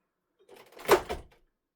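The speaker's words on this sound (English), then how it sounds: "Open your machine doors." Doors of a Perfect Draft beer machine opened, a short soft rustling clunk lasting under a second, close and isolated against silence.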